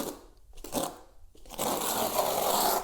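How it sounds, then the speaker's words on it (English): A 3mm notched trowel drags rapid set tile adhesive across a surface in close, gritty scraping sweeps, two short strokes followed by a longer continuous smear. "I'm using my rapid set adhesive here with a 3mm notch trowel."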